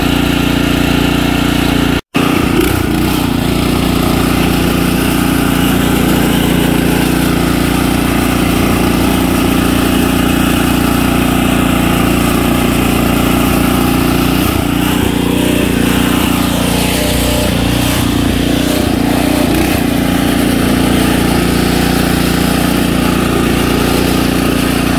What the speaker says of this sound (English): 2023 lawn mowing has commenced.